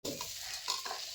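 Tomato masala stirs and fries in a pan, a faint, steady sizzle with a light scraping stir lasting only a moment, with no voices.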